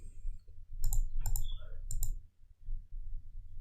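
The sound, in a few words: computer mouse clicking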